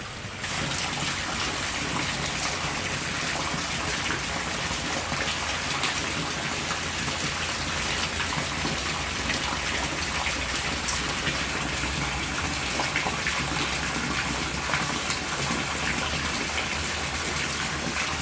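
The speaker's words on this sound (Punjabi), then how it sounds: "ਕਾਫੀ ਦਿਨਾਂ ਬਾਅਦ ਅੱਜ ਦੇਖਿਆ ਸੂਈਆਂ ਵਾਲਾ ਮੀਂਹ" Heavy afternoon rain pouring down outdoors in Sri Ganganagar district, Rajasthan, a dense, steady hiss and roar that stays constant throughout with no voices.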